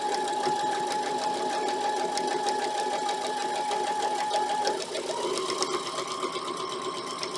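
A sewing machine stitches quilt fabric with a steady, close mechanical whir and rapid needle chatter, running continuously with a slight change in pitch partway through.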